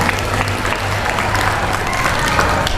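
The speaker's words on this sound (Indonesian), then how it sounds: "Tepuk tangan untuk kita semuanya." Students at a school assembly at SMP Muhammadiyah 3 Waru applaud together, a dense, steady wash of clapping that holds at an even, fairly loud level throughout, with a low hum underneath.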